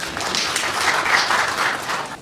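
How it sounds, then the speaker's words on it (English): Parliamentary committee members applaud a witness in a hearing room, a short, fairly loud burst of dense clapping with no voices over it. "Honourable members, can we applaud her?"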